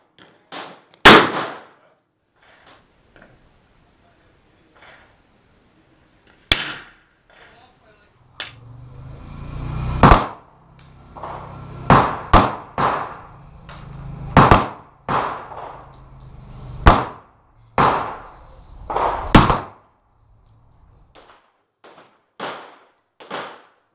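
Smith and Wesson 460 revolver fired outdoors at a US range: a dozen or more sharp, loud blasts at irregular intervals, some with a lingering boom, separated by short pauses.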